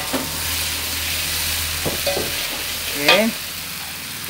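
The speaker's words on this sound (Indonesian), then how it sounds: "Berikut saya masukkan ati yang sudah saya rebus tadi, saya potong-potong." Chopped boiled chicken liver stir-fried in a pan with oyster sauce, a steady soft sizzle under scraping and clinking of a utensil stirring, with a voice speaking briefly.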